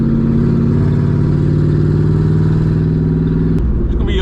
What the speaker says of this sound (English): This car is so loud, bro.